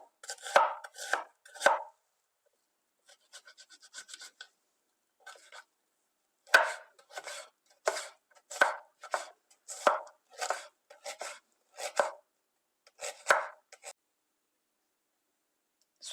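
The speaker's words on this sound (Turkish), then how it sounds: "Şimdi bir adet soğanımızı yemeklik olarak doğrayacağız." A knife chops an onion on a board in quick bursts of crisp taps, pausing between rounds, close and clear in an otherwise quiet room.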